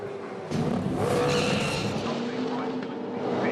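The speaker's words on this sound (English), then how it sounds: "Spin for Bright, and off also is the Mobil 1 HSV car of Scott Pye" A Supercars race car engine roars as tires skid and squeal through a spin, loud and sustained, with a commentator talking over it.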